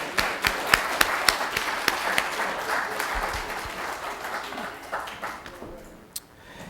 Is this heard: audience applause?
yes